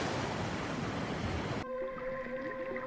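Ocean waves crash near the shore as a loud, dense wash of surf, then cut abruptly to a quieter steady hum with faint tonal sounds.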